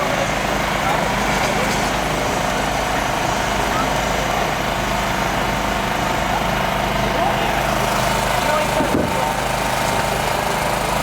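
Firefighters cutting through the front left pillar of a car with powered rescue gear, a loud continuous engine drone with grinding texture throughout, steady and close, one brief dip near the end.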